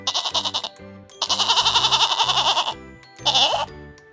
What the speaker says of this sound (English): That's right, it's a goat. What sound do goats make?